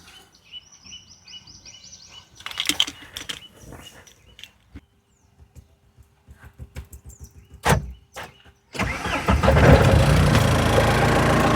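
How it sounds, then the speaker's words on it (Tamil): Clicks and handling sounds lead up to an engine cranking and catching, then settling into a loud, steady running rumble. "இன்ஜின்லாம் ஸ்டார்ட் பண்ணி காட்டுறேன் பாருங்க"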